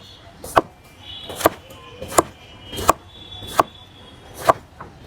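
A knife chops a bottle gourd (lau) at a street stall with a cutting man, six or seven sharp, evenly spaced thuds against a board, loud and close.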